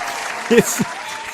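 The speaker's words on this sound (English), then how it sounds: "Round of applause." Brief applause from a crowd, a steady patter of clapping with a voice briefly calling out over it.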